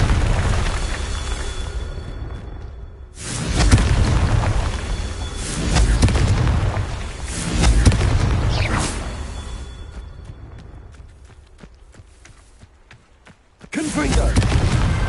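Confringo fire spell blasts from Hogwarts Legacy come as several loud booming bursts with whooshing tails, separated by quieter gaps, and a voice speaks among them.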